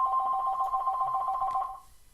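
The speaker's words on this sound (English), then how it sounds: "we'll just wait for the phone to stop ringing" A telephone ringing with a steady electronic ring that holds for almost two seconds and then cuts off, close and clear with no voices.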